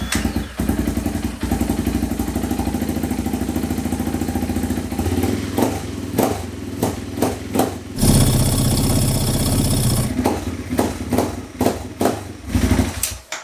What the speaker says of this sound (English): let's go ahead and start the bike real quick